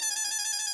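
A mobile phone left behind rings with a bright, steady electronic tone, a sustained sequence of repeating notes heard alone and fairly close.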